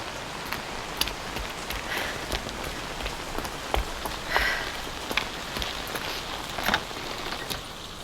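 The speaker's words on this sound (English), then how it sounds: "The rain's getting stronger." Steady rain in a video game, a dense even hiss of falling drops with occasional sharper spatters and taps, constant and fairly loud throughout with no talking.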